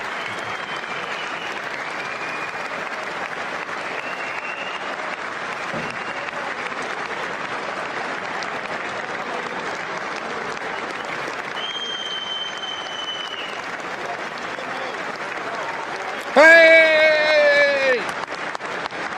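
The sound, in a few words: applause at the State of the Union address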